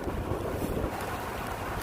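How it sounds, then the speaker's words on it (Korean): Steady rain and gusting wind buffet a cyclist riding a riverside bike path along the Nakdong River, forming a dense, continuous rushing roar with low rumble and no voices. "빗소리 바람소리 10분은 견딜 수 있습니다"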